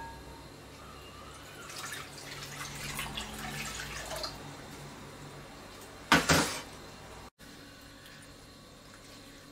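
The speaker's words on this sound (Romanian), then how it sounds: "Într-un alt bol vom adăuga apa călduță." Warm water poured into a bowl while preparing a no-bake fresh fruit cake with gelatin: a soft, trickling splash building over a few seconds, followed by a short, sharper clatter near the bowl, with quiet kitchen background.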